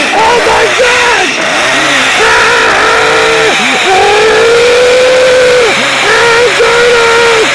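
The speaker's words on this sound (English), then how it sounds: "It is a chainsaw!" A chainsaw runs loud and close, its engine droning with repeated revving swells and dips throughout, blasting at overdriven volume with no talk.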